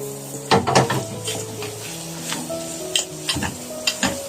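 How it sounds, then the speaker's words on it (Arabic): Chicken and vegetables are stirred in a hot frying pan, with loud clanking scrapes of the utensil against the pan over a constant sizzle, repeated in irregular bursts. "هنزل بالفراخ بتاعتي، وهنزل ببقيه الخضار بتاعي، نقلبهم مع بعض"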